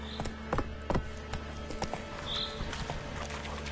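Horse hooves in The Witcher 3, rapid clopping beats in an uneven galloping rhythm, close and fairly loud, with a brief high whistling tone partway through.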